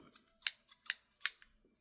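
Small multitool scissors snip open and shut close up, four or five quick crisp metallic clicks in an uneven rhythm, heard alone and quietly.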